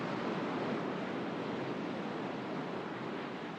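Ocean waves washing over rocks, carrying sand, as a broad, steady rushing wash at moderate volume. The surf noise holds without a break and no one speaks.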